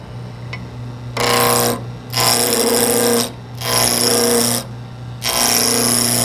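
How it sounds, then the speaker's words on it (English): A spindle roughing gouge cuts a wood blank into a cylinder on a lathe, with the lathe's steady hum underneath. Four loud, sustained bursts of broadband cutting noise come in an even rhythm, with short quieter gaps between them. "I use the spindle roughing gouge to turn this into a cylinder"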